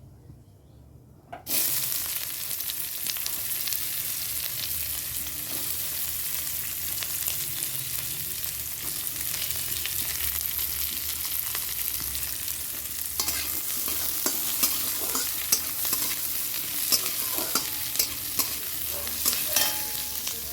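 Onion hits hot oil with cumin seeds in a pan and bursts into a loud, continuous close sizzle after a short silent start, with crackling pops and stirring scrapes building toward the end.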